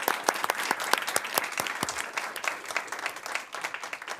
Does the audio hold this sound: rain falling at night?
no